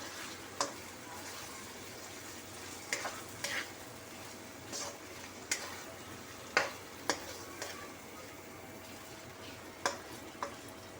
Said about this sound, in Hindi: लाइट ब्राउन प्याज में कीमा जो है वो ऐड कर दिया है। अब हम इसको थोड़ा सा चलाए फिराएंगे